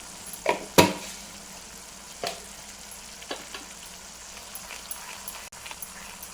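Soft sizzling and frying of millet with cardamom powder in a pan, with a few sharp clanks of a spoon stirring against metal.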